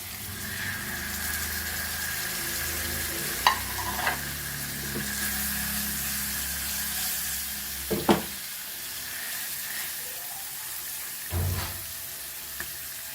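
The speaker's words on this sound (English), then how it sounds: "So now I will fry this." Food frying in hot oil in a pan over a medium flame, a steady close sizzle with a few sharp pops and stirring clatters, no talking.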